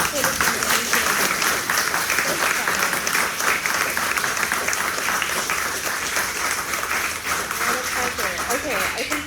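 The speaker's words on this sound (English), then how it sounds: "Can we get a quick round of applause for the" Steady, dense audience applause fills the room after an artist conversation event, loud and continuous throughout with no pauses.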